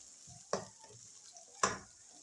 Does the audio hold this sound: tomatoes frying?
yes